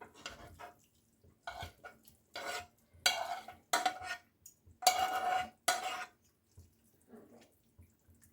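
Intermittent scraping and clinking of a utensil stirring borscht ingredients, beetroot, in a frying pan, in short irregular bursts separated by quiet pauses.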